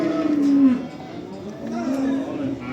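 Calves mooing at a livestock market, a couple of drawn-out low bellows nearby with general market background noise.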